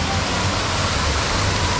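A small waterfall along a wilderness-style path at Knott's Berry Farm gives off a steady, dense rush of falling water, loud and close, with no voices over it.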